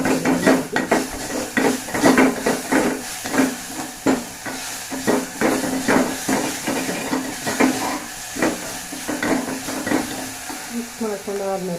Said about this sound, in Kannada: ಗೋಲ್ಡನ್ ಬ್ರೌನ್ ಆದಮೇಲೆ ರುಚಿಗೆ ತಕ್ಕಷ್ಟು ಉಪ್ಪು ಹಾಕ್ಕೊಂಡು ಮಿಕ್ಸ್ ಮಾಡ್ಕೊಂಡು